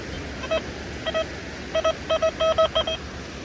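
XP Deus II metal detector giving a series of short beeping target tones, single chirps at first and then quicker clustered bursts, over steady outdoor background noise.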